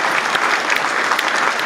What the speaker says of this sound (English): I'm gonna go ahead and give the round of applause for this.